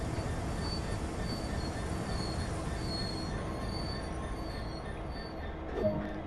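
A video game train creaks slowly forward with a steady low rumble and faint high squeals from the wheels, ending with a short clank.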